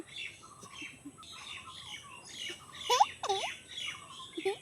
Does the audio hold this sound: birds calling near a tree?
yes